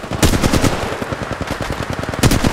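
Rapid automatic gunfire rattles in the Apex Legends Mobile video game, with dense bursts of sharp, loud shots firing in quick succession and a heavier cluster near the end, nearly continuous throughout.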